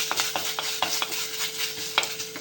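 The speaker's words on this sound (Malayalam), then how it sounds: "അതിലേക്ക് ഈ ഇഞ്ചി വെളുത്തുള്ളി ചതച്ചത് ഇട്ട് കൊടുക്കാം. ഒന്ന് ചെറുതായി ഒന്ന് മൂത്ത് വരട്ടെ." Crushed ginger and garlic frying in a pan, with light sizzling and a series of sharp stirring scrapes and taps at irregular intervals, close and moderately quiet.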